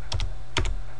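Two quick pairs of sharp key clicks on a computer keyboard, close and crisp over a faint steady hum.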